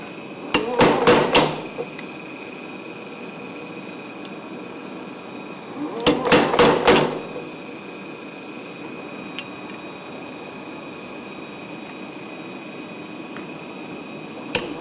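A tire hammer pounds hot steel in two short bursts of rapid, loud ringing blows, each about a second long, separated by a steady hum and faint clinks from the gas-fired forging setup.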